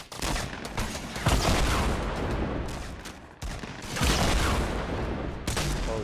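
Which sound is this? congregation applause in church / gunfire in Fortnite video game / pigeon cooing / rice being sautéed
gunfire in Fortnite video game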